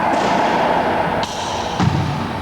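A racquetball Z-shot is struck in an indoor court, a few sharp thuds and slaps as the ball hits the front wall and then both side walls in quick succession, echoing in the enclosed space.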